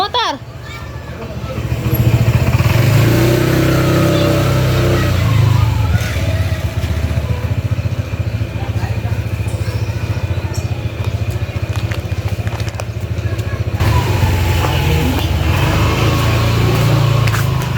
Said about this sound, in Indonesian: Awas motor.